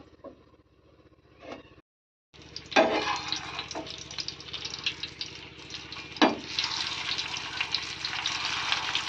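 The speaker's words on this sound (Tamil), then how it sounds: "கொஞ்சம் வந்து மேலையெல்லாம் எண்ணெய் ஊற்றிக்கலாம்" Oil is poured over egg puffs cooking in a pan, setting off a steady sizzle and crackle that starts after a brief quiet gap and keeps on at a moderate level, with a few louder splashes.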